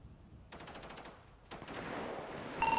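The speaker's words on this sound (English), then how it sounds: "Yeah, I'm just shooting." Gunfire in a Jailbreak video game, two short rapid bursts of automatic shots a second apart, then a more continuous rattle, moderately loud.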